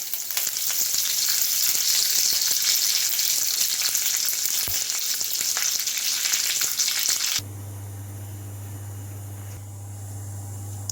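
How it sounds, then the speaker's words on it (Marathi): Curry leaves and mustard seeds sizzling in hot oil for a curry tempering, a loud steady frying hiss for about seven seconds, then dropping to a quieter crackle over a low hum. "आपण ही कढीपत्ता टाकून घ्यायचा, आपण जरा थोडा अर्धा करून घेतला की चवदार फोडणीची चव येते।"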